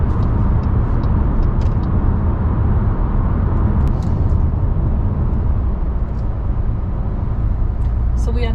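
A car cruises on the German autobahn near Düsseldorf, its steady, loud road and engine roar filling the cabin throughout, with a person talking over it.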